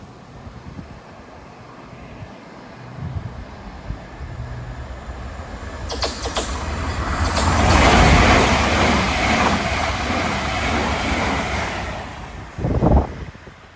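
A train passes through Pluckley railway station in Kent, a broad rumble and rush that builds from the middle and then fades under steady wind noise, with a short louder burst near the end.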